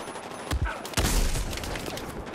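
Battlefield 1 gunfire crackles in a few sharp shots close together, followed by a rumbling boom and noisy in-game ambience.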